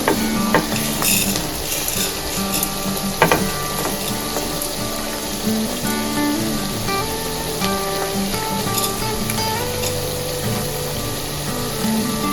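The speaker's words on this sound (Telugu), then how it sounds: "ప్యాన్ కొంచెం వేడైన తర్వాత ఫస్ట్ ధనియాలు వేయాలి." Coriander seeds dry-roasting in a hot pan while garam masala is prepared for a chicken curry, a busy crackling and rattling texture with occasional sharper pops against a humming background, no speech.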